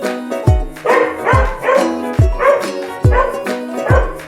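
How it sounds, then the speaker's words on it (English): Domestic dog barking in a series of sharp, repeated barks, about seven in quick succession over a regular rhythm, close and loud, with music playing underneath. "Dog."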